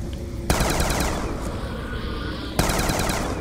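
Rapid automatic gunfire from a fast-firing video game gun, a dense continuous burst with a sharp onset near the start and another fresh burst later, loud and close, no talking.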